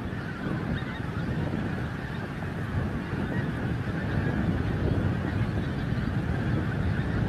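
Pink-footed geese calling at dusk over a wildlife reserve basin, a steady distant chorus of honking carried under continuous wind and ambient noise with no clear individual calls standing out.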